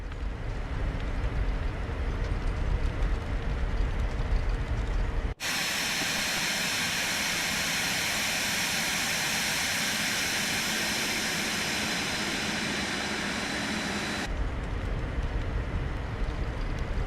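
A Phenom 300E business jet taxiing in a flight simulator game, a constant loud jet engine whine and hiss that shifts abruptly in tone partway through, then returns to the earlier character, with no talking.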